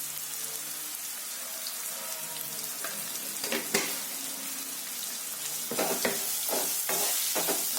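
Onions and salt frying and being stirred in a pan, a steady low sizzle with scraping stir strokes that grow busier toward the end.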